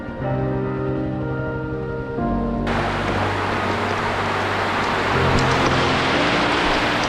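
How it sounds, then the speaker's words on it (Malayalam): Heavy rain pours along a forest route at Laha in Pathanamthitta. The downpour begins after a few seconds of tonal hum and becomes a dense, loud, steady roar that swells slightly toward the end. "ഇത്തവണ നല്ല തകർപ്പൻ മഴയാണ്."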